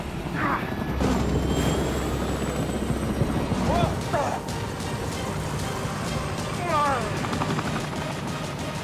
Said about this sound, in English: To see a helicopter just dropping out of the sky like that and corkscrewing that far down